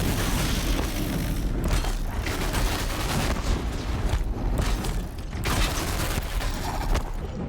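Dense, continuous roar of explosions and gunfire-like blasts in the action video game Horizon Zero Dawn, with dull booms and mechanical clatter filling the whole stretch, no talk.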